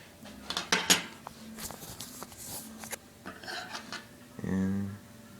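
Small fork clinking and scraping against a plate holding a soft microwaved banana, a few light metallic taps close by, with brief shuffling between them and a short hum near the end.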